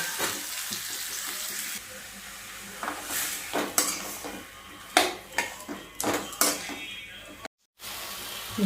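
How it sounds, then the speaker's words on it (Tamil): Onions and tomatoes sauté in refined oil in a home kitchen pan, a soft steady sizzle under repeated clinks and scrapes of a stirring utensil, with no speech. "ஊற்றிட்டு வெங்காயம், தக்காளி இது எல்லாமே உள்ளே போட்டுடலாம்."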